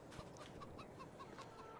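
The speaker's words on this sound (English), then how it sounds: "Here's our chickens." Soft, repeated chicken clucks at a steady pace over a constant background hum, with no talking, in the farming video game Farming Simulator 22.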